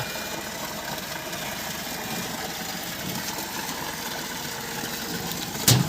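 A 3000W BLDC submersible pump motor runs in a 460-foot borewell with 1.5-inch piping, giving a steady, unbroken mechanical hum with a rough noisy wash and a brief louder knock right at the end.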